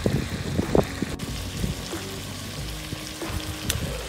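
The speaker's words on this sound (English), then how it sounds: "You should be able to hear the sizzle, and we're going to let that go now until the meat's virtually cooked," Meat fries in a pan over a campfire in a woodland, hissing and crackling up close with scattered pops and bursts of spitting.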